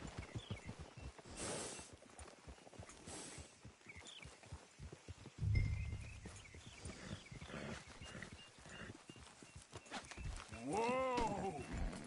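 Horses in Red Dead Redemption 2, with snorts, shuffling hooves and a brief whinny-like call near the end, heard close up over game ambience and faint talk.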